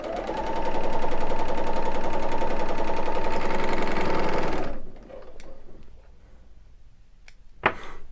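A Bernina L850 serger runs at a steady fast buzz, stitching quilt pieces for nearly five seconds, then stops abruptly, followed by faint handling clicks and one sharp tap.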